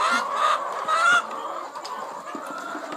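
Laying-breed hens in a Phetchabun flock give honking, squawking calls that rise and fall close by, with overlapping bursts of clucking over a short stretch.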